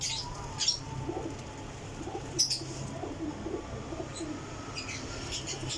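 Faint, low cooing from pigeons, Kasuri birds kept by a fancier, under steady background noise with a few brief chirps and a wing flutter now and then, distant and soft throughout.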